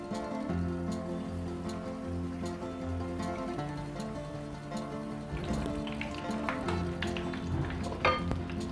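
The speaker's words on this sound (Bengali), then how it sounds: "অল্প আছে একটু সময় নিয়ে ভাজবেন" Samosas deep-frying in a pan of oil give a steady, close bubbling hiss that lasts throughout, with sharper crackles and pops building toward the end.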